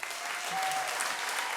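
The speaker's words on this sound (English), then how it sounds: "Applause." Steady applause from a small crowd, evenly sustained for its full length at moderate loudness, with no voices over it.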